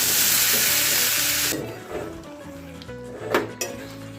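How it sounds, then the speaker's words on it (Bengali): Cut potatoes fry and are stirred in a pan for an aloo posto dish, with a loud, steady sizzle and scraping clatter that drops to quieter, intermittent stirring clinks. "আলুগুলো কেটে নিয়ে এবার ভাজা হচ্ছে"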